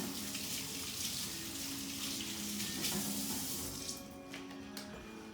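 Hands washed under a running kitchen tap while cooking stuffed artichokes, a steady close splashing hiss of water that continues for several seconds and thins near the end, with no talking.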